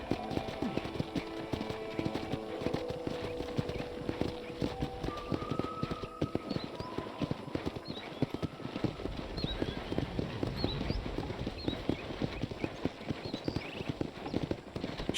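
Rhythmic clip-clop of horse hooves at a steady walking pace on a ranch in the video game Red Dead Redemption, moderately close, with soft background ambience and occasional light musical tones.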